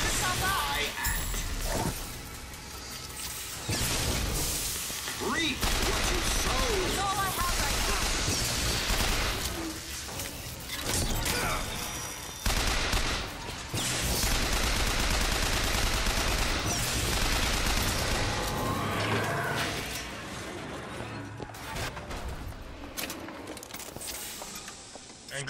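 Rapid machine gun fire in Bioshock Infinite's combat, with repeated bursts and dense volleys of shots, loud and close, broken by brief pauses and mixed with other game noise.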